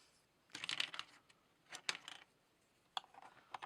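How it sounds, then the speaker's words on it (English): Plastic keycaps are pried off a one-handed RGB gaming keyboard with a small repair tool, giving soft clicks and rattling snaps in a few short bursts, quiet and close. "let's just pop out one of these keys and see what we're looking at"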